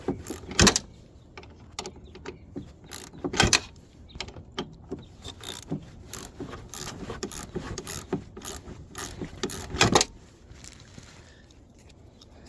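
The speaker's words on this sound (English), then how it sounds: "you can spin these off by hand" Strut bolts on a 2015 Nissan Altima are spun off by hand, giving sparse metallic clicks and clanks. A few sharper knocks stand out against a quiet garage background. No one speaks.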